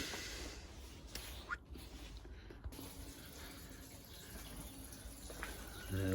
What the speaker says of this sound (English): Just filling them water butts up in here now